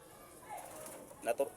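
Two soft, low coos from pigeons close by, following a brief murmur of background noise.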